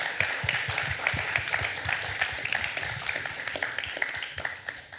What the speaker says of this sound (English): The applause should be given to our panels.